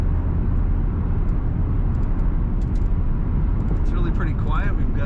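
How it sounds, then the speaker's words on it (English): A 2006 Chevrolet Corvette coupe cruising down the road, heard from inside as a steady low engine and road rumble, with someone talking over it. "This car goes nice and straight down the road."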